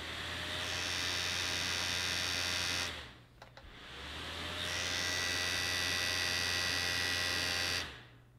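Overclocked server fan running at twice its rated speed, a loud close whine and hum that cuts out around the middle, sputters, then spins back up before stopping again near the end.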